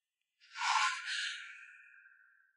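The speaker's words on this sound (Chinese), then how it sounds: "可是那道呼吸声却再次响起。" A single heavy, drawn breath in a tense science-fiction thriller scene aboard a space station, rising fast and then easing off into a long, fading exhale. It is close and clear, with no talk.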